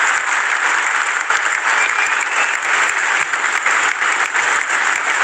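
A stadium crowd at an NRL rugby league match between the Dragons and Bulldogs breaks into sustained, loud applause as a tribute, a dense and even wash of clapping that holds steady throughout.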